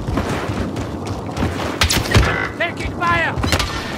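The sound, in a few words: gunfire in Call of Duty: Warzone video game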